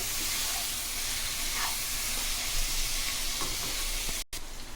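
Chicken gravy with salt added being mixed in a pan, a soft steady hiss with faint scraping strokes of stirring, quiet and close, broken by a short dropout near the end.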